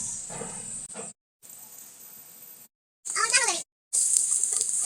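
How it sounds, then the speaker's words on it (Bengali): Chopped onion and garlic hit hot oil in a wok, giving bursts of close, bright sizzling hiss broken by short silent cuts, with a voice speaking briefly over one burst. "তেলটা গরম হয়ে গেছে। পেঁয়াজ রসুন কুচি দিয়ে দেবো।"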